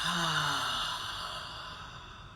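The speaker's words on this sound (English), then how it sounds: "And exhale out with sound." A deep, breathy exhale released with audible sound during a guided self-care breathing exercise, a single long breath tapering off over a couple of seconds, close and fairly loud with no speech.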